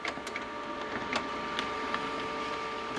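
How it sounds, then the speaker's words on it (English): A printer feeds heavy glossy paper, giving a close, faint mechanical whir with a steady tonal hum and scattered small clicks and ticks, no talking. "It's printing out right now"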